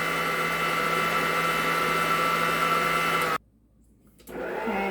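An electric mixer or blender whirs steadily and loudly through no-bake strawberry cheesecake filling, then cuts out abruptly for about a second before starting up again.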